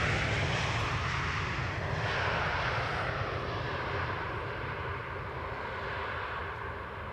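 An airliner arrives on the Polderbaan runway 18R at Schiphol airport, its jet roar loud and steady, slowly fading over several seconds.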